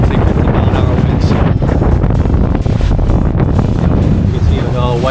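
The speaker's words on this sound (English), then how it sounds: "First drive on the 22, and it's windy." Strong gusts of around 50 mph roar across the microphone during a first drive on a Seapro 225 boat, a loud, constant buffeting rumble with water noise underneath and a faint voice.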